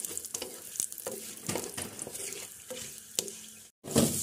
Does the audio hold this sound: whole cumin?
yes